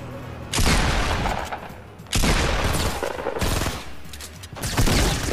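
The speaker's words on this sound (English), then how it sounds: "Guy just keeps shooting." Gunfire in Fortnite on Xbox One comes in three loud, dense bursts of rapid shots, each cutting off sharply before the next volley starts.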